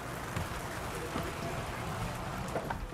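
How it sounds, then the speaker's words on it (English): Simulated rain falls steadily in a dense, even patter during a running test at a mall, a constant wash of droplets with faint movement and voices beneath it. "Do you get wetter by walking in the rain or by running in the rain?"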